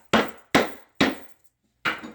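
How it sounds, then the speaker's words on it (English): Metal objects strike a wooden sign board in four separate dull, close thuds, three in quick succession and one after a short pause, with no talking. "You just use any metal objects that are different sizes and shapes, and I just like to hit the board with it."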